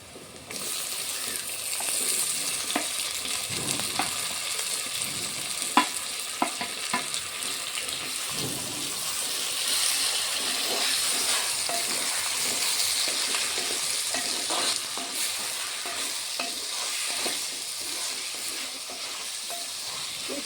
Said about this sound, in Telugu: ఇప్పుడు ముందుగా తరిగి పెట్టుకున్న టమాటా ముక్కలు వేసుకుంటున్నా